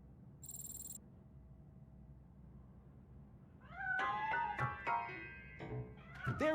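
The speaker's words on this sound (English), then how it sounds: "That cat must be hiding inside." A cat meows repeatedly in Robocop: Rogue City while hiding inside a piano, the calls clear and mid-distance over a low ambient game hum.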